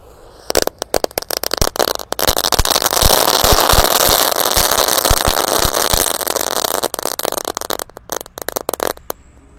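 A rapid series of sharp firecracker bangs from firecrackers buried in the ground, some muffled, popping irregularly over several seconds with crackling bursts and a steady background rumble.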